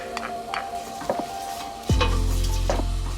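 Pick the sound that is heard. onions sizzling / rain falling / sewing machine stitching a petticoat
onions sizzling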